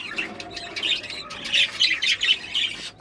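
Several budgerigar chicks, red-eyed lutino babies in a freshly cleaned nest box, squawk and chirp in shrill, overlapping bursts that rise and fall close by, with no talking.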